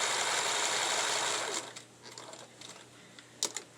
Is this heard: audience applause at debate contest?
no